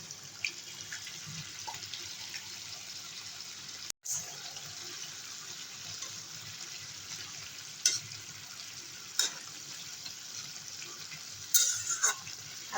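Fried eggplant and chopped tomato go into a simmering fish curry with onion greens: a steady low bubbling and faint sizzle throughout, a sharp clatter near the start and a few light clinks of a spoon later, no voices.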